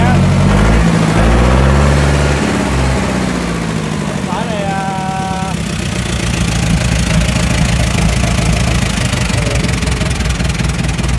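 A Kubota M6970 tractor with a four-cylinder engine and under 1,500 hours runs loudly and steadily nearby, its pitch shifting early on before settling into a rough, knocking drone.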